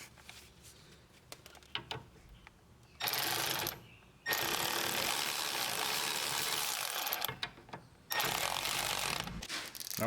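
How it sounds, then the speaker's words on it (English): Mechanical ratcheting on the rear brake caliper bracket bolts of a 2002-2012 Nissan Altima, quiet clicking at first, then two longer loud bursts of buzzing, whirring ratchet or tool noise with short pauses between them, no talking. "Okay, we're gonna go ahead and snug up the first bolt."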